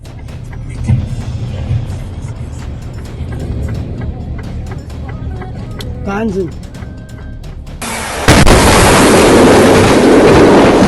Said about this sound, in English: A truck loaded with construction debris appears to have broken down at a level crossing and was hit by a freight train.